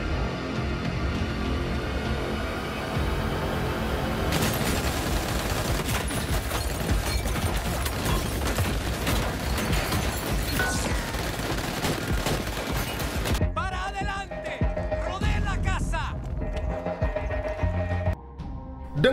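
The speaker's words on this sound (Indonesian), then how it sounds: "Pasukan Prosada terus menghujani peluru ke arah rumahnya Julie." Gunfire in a scene from the Shooter TV series, season 3: dense, sustained volleys of rapid shots and bursts, loud and continuous, with a brief quieter break before the shooting resumes near the end.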